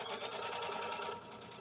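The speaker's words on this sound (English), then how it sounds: "we're stitching an outline so that I can put this piece down" A quilting sewing machine stitches an outline with a rapid, steady mechanical whir and needle patter, close and continuous, easing slightly toward the end with no talk.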